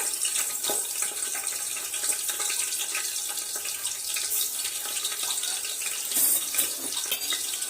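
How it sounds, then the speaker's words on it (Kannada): Green chillies frying in hot oil for biryani give off a steady, bright, crackling sizzle that holds at an even level throughout, close up and unaccompanied by speech. "ಎಣ್ಣೆ ಕಾದೈತಿ, ಈಗ ಮೆಣಸಿನ್ಕಾಯಿ ಹಾಕಾಕತ್ತ ನೋಡ್ರಿ ಇದ್ರೊಳಗ"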